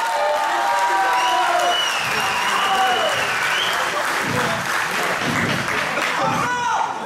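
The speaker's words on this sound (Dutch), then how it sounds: "En een daverend applaus, alsjeblieft." Thunderous crowd applause after a kickboxing fight in a loud arena, dense and sustained clapping with cheering, whistles and voices over it throughout.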